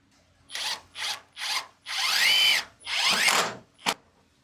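A power drill drives screws into Shera plank wall boards, whirring in a series of short, loud, close bursts followed by two longer runs and a final brief blip.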